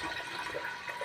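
Water is poured over soaked rice and salt in a pot, giving a brief, steady rushing splash heard up close with no voices.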